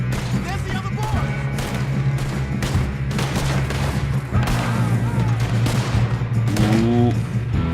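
Gunshots ring out during a train robbery in Red Dead Redemption 2, several sharp cracks scattered through a busy game mix with a steady rumble, while a player talks over the action.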